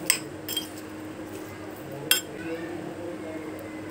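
A spoon stirs cream with powdered sugar and chaat masala in a bowl, giving a few light clinks against the dish amid soft mixing noise, with a sharper tap near the middle.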